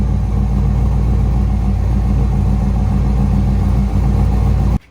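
Car engine with a single 3-inch exhaust settling to a steady idle after a cold start, with a loud, continuous low rumble throughout that cuts off abruptly at the very end.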